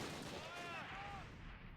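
Vickers machine gun fire in the World War II strategy game Close Combat at Sword Beach, a dense continuous crackle of bursts with battlefield noise filling the whole stretch.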